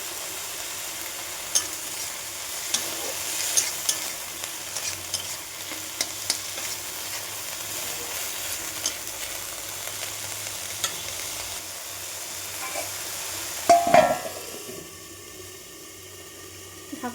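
Red amaranth greens frying and being stirred in a pan with a little salt, giving a continuous soft sizzle with scraping stirs and a louder clatter near the end.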